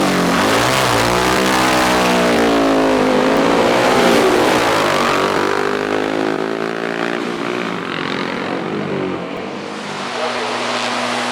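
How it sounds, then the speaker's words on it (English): A Cooper Mark 5 Formula 3 racing car pulls away at a hillclimb, its engine revving hard and rising through the gears in a loud, sustained roar that fades slightly as it moves off. "Keith Robinson's first away with his Cooper Mark 5"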